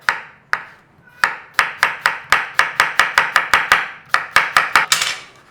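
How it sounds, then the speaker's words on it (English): Cucumber sliced with a knife on a chopping board for a rice bowl, heard as a rapid series of about fifteen crisp, close knife strikes in a steady rhythm after two slower opening cuts, with no talking. "we want some sliced cucumber"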